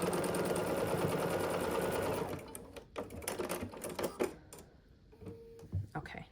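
Sewing machine stitching a flag piece onto a sail rectangle for a sailboat quilt block, a steady close whirring run that stops partway, followed by scattered clicks and fabric handling with occasional talk.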